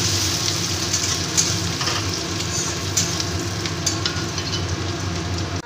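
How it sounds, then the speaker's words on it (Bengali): Chopped onion frying in oil in a pan while being browned for a potato, pointed gourd and prawn curry: a steady, close, even sizzle with faint crackles throughout, no voices. "পেঁয়াজটা একটু বাদামি করে আমি ভেজে নেব।"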